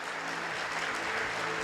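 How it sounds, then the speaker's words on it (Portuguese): A church congregation claps in dense, steady applause through a service, the sound filling the room evenly from start to finish with no voices on top. "Jesus, aplauda mais forte a Ele."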